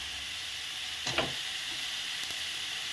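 Chopped onion and ginger fry in a pan with a faint, steady background sizzle, broken by a couple of brief louder crackles and stirring scrapes; no talking.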